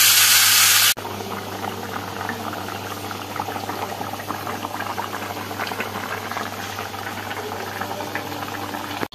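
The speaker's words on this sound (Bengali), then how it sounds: "এই যে পাশে গরম জল বসিয়েছি, পরিমাণ জল দিয়ে ভালো করে এটাকে ফুটিয়ে নিলেই আমাদের ডিমের ঝোল একদম রেডি" Egg and potato curry bubbles at a steady boil in a pan, a continuous close gurgling simmer after a brief louder burst at the start, with no voices.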